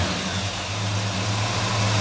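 The GM small block V8 in a 1956 Chevrolet 210 runs with a steady, loud, close rumble and a smooth, even idle throughout.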